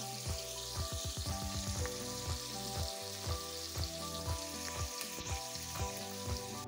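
Onions browning in oil in a pan while red lobiya is prepared, a steady close sizzle with bursts of crackling and rhythmic spoon scrapes against the pan.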